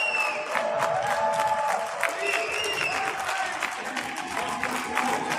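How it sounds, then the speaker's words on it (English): Scattered audience applause from a thin crowd, a steady patter of claps with some faint voices mixed in, heard from a distance. "It doesn't sound like that many people applauding."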